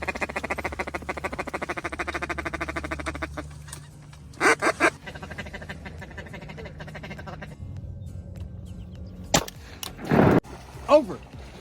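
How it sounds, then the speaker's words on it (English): Ducks call and quack during a duck hunt in Mississippi, with honking calls rising among steady background noise, and a few sharp louder bursts cut in near the end. "The ducks are here."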